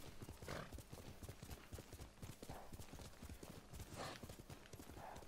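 Horse hoofbeats while riding through rough, steep terrain in Ghost of Tsushima, a steady rapid clip-clop of a galloping gait, close and continuous throughout.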